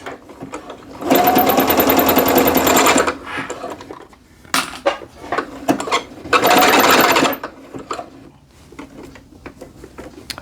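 Sewing machine stitching a curve while sewing joggers, two loud bursts of rapid mechanical stitching separated by pauses with clicks and handling noises, close up.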